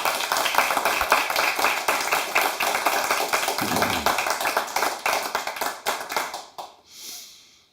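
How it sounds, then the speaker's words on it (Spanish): A church congregation claps together in sustained, dense applause after being invited to praise the Lord, the sharp hand strikes steady and loud before tapering off and fading near the end. "¿Quién le quiere dar un fuerte aplauso al Señor?"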